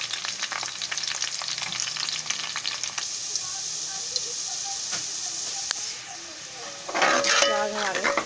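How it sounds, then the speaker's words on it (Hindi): Onions fry in a pan over low gas while being stirred, a steady close sizzle with scraping utensil clinks and a brief louder stir near the end, no talk. "प्याज हमारे हल्के हल्के ब्राउन हो चुके हैं, सुनहरी हो गए।"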